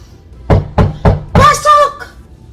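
Four firm, evenly spaced knocks on a wooden door sound close and loud, and a voice calls out right after them.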